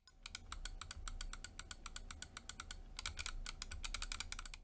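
Rapid, sharp clicking in quick irregular bursts from HyperX Pulsefire Haste 2 mouse switches being pressed over and over, close up with no talking.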